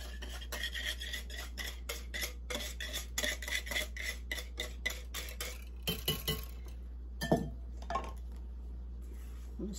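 A spatula scrapes a wet mixture out of a glass bowl onto cubed bread for banana bread pudding, giving a run of close, repeated clinks and rasping scrapes over a steady low hum.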